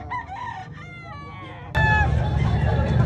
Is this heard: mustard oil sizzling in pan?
no